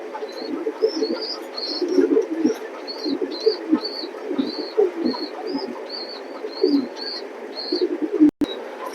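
Pigeons in a pigeon loft coo repeatedly, a steady run of soft, rolling calls close by with a few higher chirps over them, and no voices.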